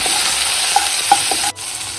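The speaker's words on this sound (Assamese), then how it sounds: "আন এখন কেৰাহীত অকণমান তেল দিম আৰু এটা শুকান জলকীয়া দি পেলাই ভাজি ল'ম" A dried chilli frying in hot oil in a wok, a loud continuous close sizzle broken by a few sharp spatula clinks against the metal, then a brief dip before the sizzle resumes, with no voices.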